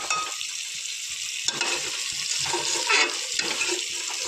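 Water gushes and splashes into a hot pot of tempering, hissing and sizzling loudly up close with a few scraping stirs, no voices.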